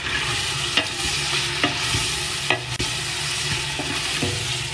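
Meat seasoned with chili and spices cooks in a pan, sizzling steadily with repeated sharp clicks and scrapes of stirring.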